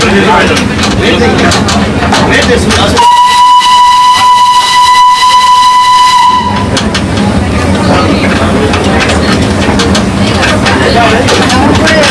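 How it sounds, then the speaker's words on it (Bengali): A Darjeeling Himalayan Railway toy train steam engine sounds a long, steady, piercing whistle of about three and a half seconds, set within continuous rumbling station noise and background voices. "এই যে এটা আমাদের টয় ট্রেনের স্টিম ইঞ্জিনটা।"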